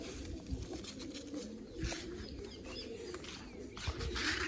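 A pigeon bursts into flight at a backyard loft, with a few sharp wing-flap bursts over a steady bed of nearby cooing and soft bird calls.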